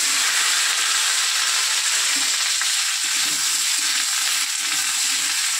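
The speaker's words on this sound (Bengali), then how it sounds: "না, এবার কেটে রাখা ভেন্ডিটা দিয়ে দেবো।" Chopped okra hits hot oil tempered with nigella seeds and dried red chillies, giving a loud, steady sizzle and hiss that stays up close throughout with faint stirring underneath.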